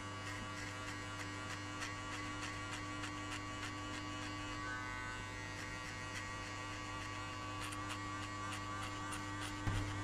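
An electric hair clipper buzzes steadily and close during a skin fade haircut, a constant humming drone that runs unbroken with no talking.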